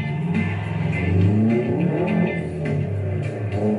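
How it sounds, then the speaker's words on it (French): A Japanese sports car engine revs loudly and close by, with a continuous throaty note that rises and falls in pitch over a few seconds, heard alone without speech. "Une japonaise facilement identifiable par le bruit de son moteur."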